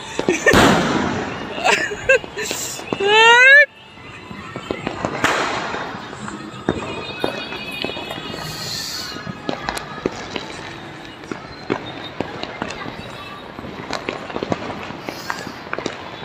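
Firecrackers burst during a New Year celebration in Hyderabad, a loud close barrage of sharp pops and bangs at the start, then a long spread of scattered crackles and distant reports, with occasional voices in the background.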